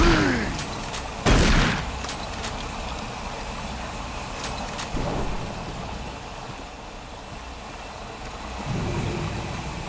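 Gunfire in Doom 3 as a monster is shot, with sharp loud blasts near the start and later, each trailing off into a low mechanical hum of ambient game noise.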